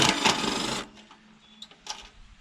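Screws being backed out of a large aluminium light fitting: a short, loud burst of close, buzzing whirr, then quiet scattered metallic clicks and light taps.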